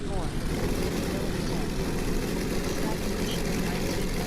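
An airplane makes a fast, low pass over a dangerous airport, its engine roaring as a steady, loud, broadband drone throughout.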